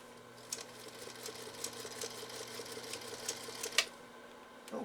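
A Singer Featherweight sewing machine runs with a steady mechanical hum and light rhythmic clicks, plus a few sharper ticks, at moderate level with no talking.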